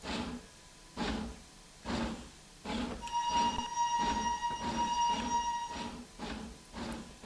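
Locomotive in Trainz Railroad Simulator 2019 pulls away under throttle with rhythmic chuffing bursts about once a second, while a sustained horn blast sounds for nearly three seconds in the middle.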